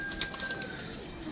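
A pigeon coos softly on a rooftop, giving a few faint, short, rounded calls with nothing else sounding.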